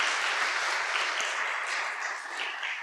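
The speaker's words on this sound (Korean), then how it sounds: "한 번 더 일어나시면 박수 쳐주시길 부탁드리겠습니다" Audience at a church ordination service for a 76th anniversary applauds steadily, a dense wash of many hands clapping at moderate distance, sustained for a few seconds without speech.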